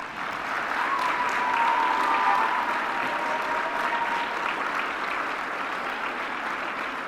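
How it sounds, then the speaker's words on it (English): An audience at a middle school eighth grade recognition ceremony applauds their teachers, steady sustained clapping filling a large room for several seconds at a moderate level. "can you stand and give your teachers a round of applause"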